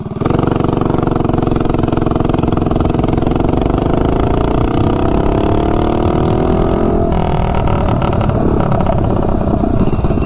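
Loud, close Doodlebug minibike with a Tillotson 212 engine and a Honda CRF 150 carburetor revving up under acceleration, its buzzing engine note rising in pitch and then dropping back with some clatter.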